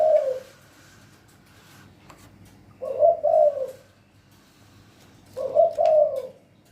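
A spotted dove coos in three separate soft, rolling phrases spaced a few seconds apart, clear and fairly close over a quiet outdoor background.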